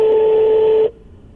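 A telephone dials out with a steady tone held close and loud for under a second, then cuts off abruptly to near silence.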